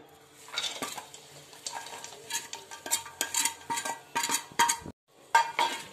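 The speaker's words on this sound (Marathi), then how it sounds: "लगेच आपण गूळ टाकूया।" Jaggery tipped into a pan with a couple of spoons of ghee, made while preparing sesame laddu: dense clatter of utensils scraping and stirring against the metal pan, with light sizzle, steady and close, no talk.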